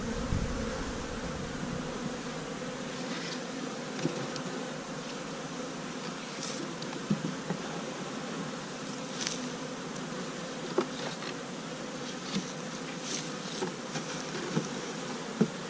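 Steady, dense hum of honey bees clustered inside a beehive in winter on a mild January day, a continuous close drone with occasional brief louder buzzes of single bees flying past.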